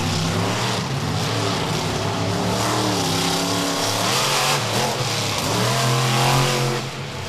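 A race car laps Bristol Motor Speedway, its engine droning loud and steady with pitch rising and dipping through the turns, constant and close throughout.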